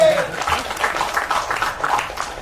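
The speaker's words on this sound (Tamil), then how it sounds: "அவருக்கு ஒரு கைத்தட்டல் கொடுத்துருங்க" An audience at a Tamil movie pre-release event for Thookudurai breaks into steady applause, a dense, close wash of clapping that carries on throughout.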